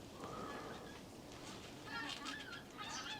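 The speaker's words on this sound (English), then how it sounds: "Oh, you can hear the geese going over." Distant honking of geese passing overhead, faint calls rising and falling over outdoor background noise.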